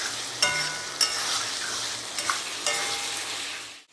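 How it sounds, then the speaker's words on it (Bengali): Spicy liver fries and is stirred in a pan, a close, steady sizzle punctuated by a few sharp spoon scrapes and clinks before it cuts off abruptly. "ভালো করে নাড়িয়ে পুরো গা মাখা গা মাখা করে ভেজে নেবে"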